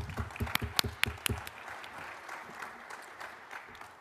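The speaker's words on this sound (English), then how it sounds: "Please join me in a round of applause for our panel." Audience applause for a defense-industry panel at a military symposium: sharp, dense clapping bursts for the first second and a half, then thinning into a softer, sustained patter that fades out.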